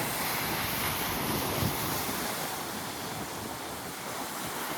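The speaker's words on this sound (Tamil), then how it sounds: "அலை பயங்கரமாக அடிக்குது" Steady roar of ocean surf at Pondicherry with waves crashing continuously, mixed with gusty wind buffeting the microphone; no voices.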